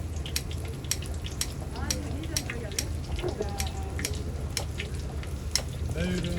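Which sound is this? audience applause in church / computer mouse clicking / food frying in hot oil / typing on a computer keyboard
food frying in hot oil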